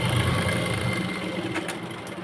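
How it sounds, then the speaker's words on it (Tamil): A sewing machine stitches a folded fabric hem for a baby frock, a steady mid-pitched mechanical whir running continuously and fairly loud throughout, with no talk. "மடிச்சுட்டு தைச்சிருங்க"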